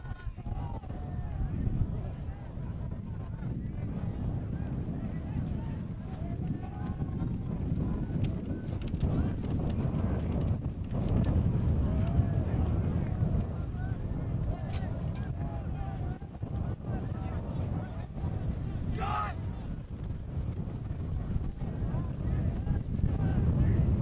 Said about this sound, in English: Wind is picking up as I watch the tent in the commentary position shake and rattle